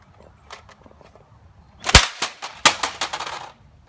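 Centerion toy blaster fires several sharp, loud cracks close by, one big snap followed by a quick cluster of smaller snapping shots, with quiet between them.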